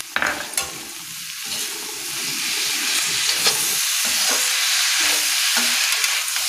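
Mixed vegetables sizzle in a pan while a spoon scrapes and stirs them. There is a steady close frying hiss with repeated knocks and scrapes on top.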